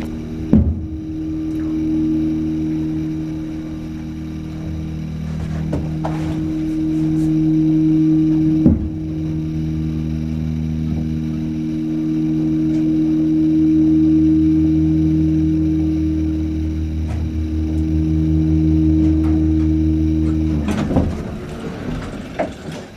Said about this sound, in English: Listen to the motor.